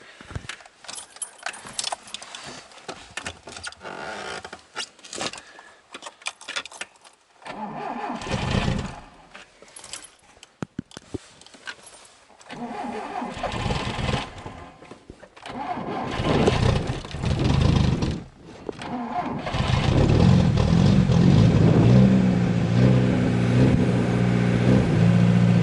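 A VAZ 2107 car engine cranks repeatedly from a likely drained battery with keys jangling, then catches and runs loudly at a rough idle for the last several seconds.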